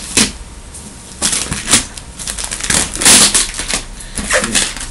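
A cardboard shipping box holding sneakers being cut and opened with scissors: sharp close crackling, tearing and rustling bursts in an uneven rhythm, with no talking.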